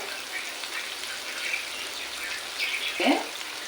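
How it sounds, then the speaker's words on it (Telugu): Spices sizzle in hot oil in a pan, with coriander powder, cumin and curry leaves, giving a soft, steady frying hiss with a brief louder crackle toward the end. "ఇలా ఫ్రై అయితే సరిపోతుంది ఇప్పుడు కొంచెం కొత్తిమీర పొడి వేసుకున్నామండి"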